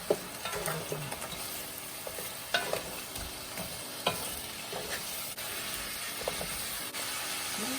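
Oxtail curry being stirred in a pot with bay leaves and whole peppercorns, a spoon scraping and clinking against the metal over a steady low sizzle and hiss, with several sharper knocks.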